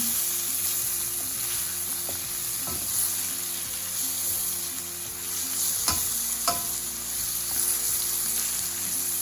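Pork and Asian vegetables frying in a pan, a steady close sizzle with scattered stirring scrapes and a few sharp clinks of a utensil against the pan, no voices.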